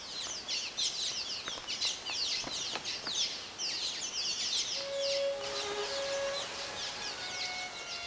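Young nestling birds in an Atlantic rain forest nest beside a waterfall give repeated high, scratchy chirps and calls in quick bursts, with a steady rush of water underneath.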